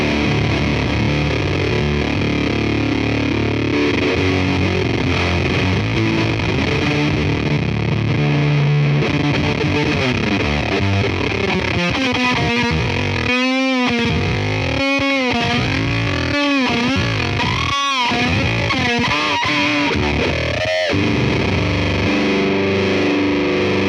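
A heavily distorted electric guitar plays through a noisy op amp overdrive pedal based on the DOD 250, with a constant hiss and buzz under sustained, gritty notes.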